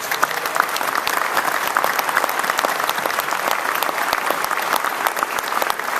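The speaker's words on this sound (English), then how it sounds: "Would you give them all a great round of applause?" A crowd at an energy summit breaks into loud, continuous applause, dense overlapping claps filling the room at a steady level throughout.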